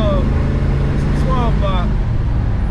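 A 1969 Chevrolet Chevelle SS with a 396 V8 rumbles in a deep, steady low drone from inside the car while someone talks over it.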